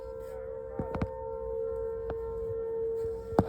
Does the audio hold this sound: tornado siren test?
yes